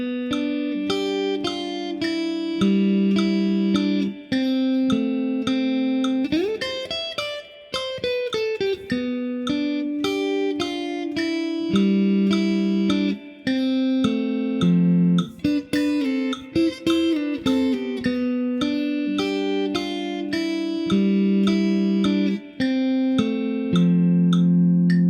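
An electric guitar plays the third chorus of a song, a steady stream of clean, ringing notes and chord stabs with one sliding bend, played alone and close without any voice.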